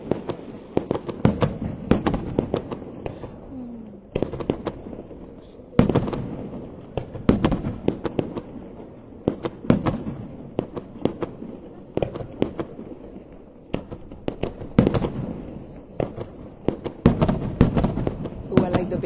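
A July 14 fireworks show in Saumur, Loire Valley, with a long run of sharp bangs and crackling bursts, some big booms, loud and irregular, with people talking now and then between blasts.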